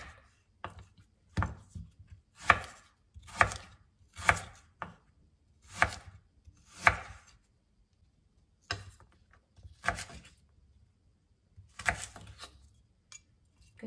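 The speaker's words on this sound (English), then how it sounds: "Now let's cut this ginger." A knife chops fresh ginger on a board in a slow, uneven series of about a dozen crisp, close knocks separated by brief pauses, with no talk.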